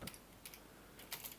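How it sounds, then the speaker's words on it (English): A few quick keystrokes on a computer keyboard while a web address is entered, faint taps in short bursts against a steady low hiss. "here I'm going to type the URL"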